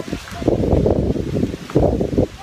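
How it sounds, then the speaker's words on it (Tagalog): Gusty wind buffets loudly in uneven surges, a rough rushing roar with a rustling edge, close and continuous. "ang hangin at ulan ay talaga po galit na galit"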